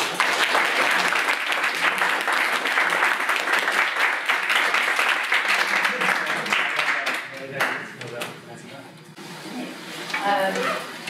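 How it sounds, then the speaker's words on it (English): Sustained audience applause fills a university forum hall after a lecture by the editor-in-chief of WORLD Magazine, dense and loud for most of the stretch, then thinning toward the end as a voice begins speaking. "Let's hear another round of applause."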